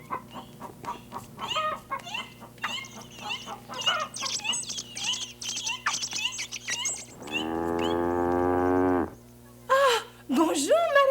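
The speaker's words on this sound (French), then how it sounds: "Ah, bonjour, Madame la Vache." A farm cow gives one long, sustained low moo lasting about two seconds, set between stretches of people talking, with other farmyard sounds before and after.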